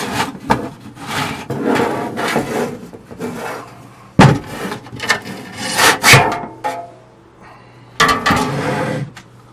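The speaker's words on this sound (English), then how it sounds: "let's take it apart, have a look at what's in it." The casing of a VHF navigation receiver is being taken apart, giving bursts of scraping, rubbing and clattering handling noises with sharp knocks and short quiet gaps between them.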